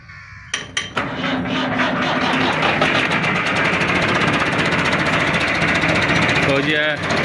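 A Massey Ferguson 375 tractor engine cranks over with a few sharp clicks, then starts and runs loud and close, holding a steady, rough throb to the end, with a brief voice near the finish.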